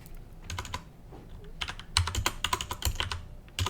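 Fast typing on a computer keyboard while entering code: irregular bursts of close, clicky keystrokes with short pauses between runs, alone and without speech.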